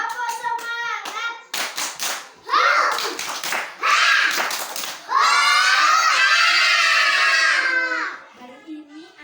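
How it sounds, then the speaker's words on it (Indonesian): Children in a classroom perform the 'tepuk semangat' rhythmic clapping cheer, with bursts of patterned hand claps alternating with loud chanted group shouts, close and lively. "Kita semangat dulu, tepuk semangat ya. Tepuk semangat."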